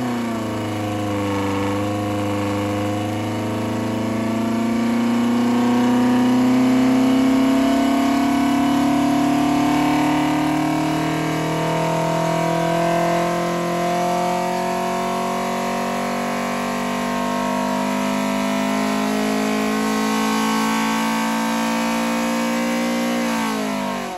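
A Ford Pinto engine revs steadily on a dyno during a test run, a loud continuous drone whose pitch climbs slowly and then holds for the whole stretch, with no voices.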